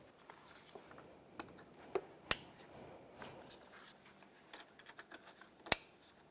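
A few sharp, isolated clicks of an electrical connector snapping onto the radiator of a 1999-2003 Toyota Solara, two of them crisp and prominent among softer taps and handling noise.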